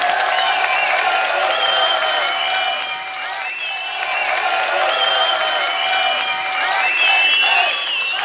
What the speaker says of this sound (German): das ist doch ein Beifall wert, ne?